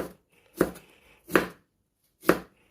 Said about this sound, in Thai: ซอยบักเลือใส่ไปเลยครับ นี่ซอยไปอีกเดียว